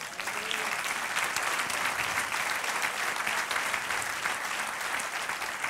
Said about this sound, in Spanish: Den aplauso al Señor